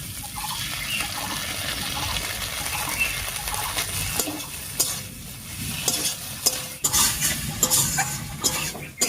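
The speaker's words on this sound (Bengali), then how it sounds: "মশলাটা দিয়ে নাড়িয়ে নিলাম" Ground spice paste being stirred into squash and potatoes in a pan, a steady scraping and frying sizzle running throughout with sharper spoon knocks toward the end, close and fairly loud.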